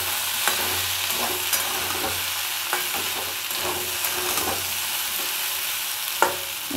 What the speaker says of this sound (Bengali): আমি আলুগুলোকে চাপা দিয়ে দিয়ে ভাজবো।